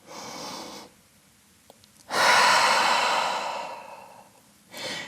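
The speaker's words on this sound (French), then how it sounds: "Grande respiration." During a yoga session, a close deep breath: a long inhale, a pause, then a fuller drawn-out exhale, ending with a short breath.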